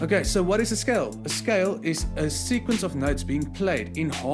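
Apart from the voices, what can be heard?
No distinct noise like a dog, phone or traffic.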